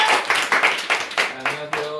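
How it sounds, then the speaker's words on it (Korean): An audience at a lecture claps to welcome a speaker, a few distinct rhythmic claps close by, with a voice briefly audible underneath. "자, 박수 환영합니다."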